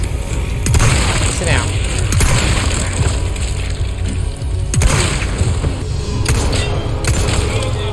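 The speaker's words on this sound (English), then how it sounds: "Grenade." A grenade blast in the Resident Evil 4 Remake game, loud and near, marked by sharp thuds and booms near one second and again near five seconds, set within dense, continuous gunfire and game noise.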